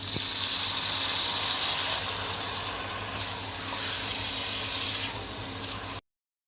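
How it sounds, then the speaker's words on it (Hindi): Half a cup of water goes into a pan of frying masala bhindi with onions and okra, a loud close gushing hiss with a few surges, easing slightly before cutting off abruptly near six seconds. "आधा कप इसमें पानी डाल दूंगी मैं।"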